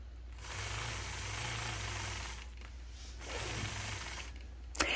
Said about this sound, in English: I'll stitch in the ditch between the yellow and gray sections.